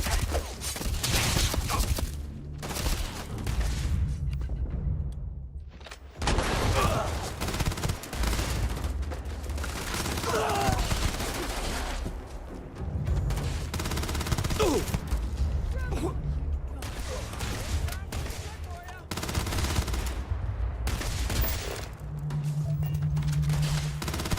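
Rapid bursts of gunfire rattle through a Starfield combat encounter, loud volleys broken by short lulls, with voices speaking at times between the shots.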